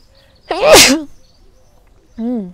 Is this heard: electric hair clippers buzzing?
no